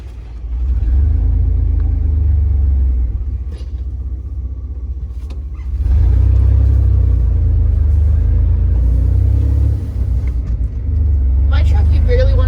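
A manual pickup truck pulls away from a stop, its engine a loud low rumble that swells as it accelerates, eases, then builds again, with a voice speaking over it.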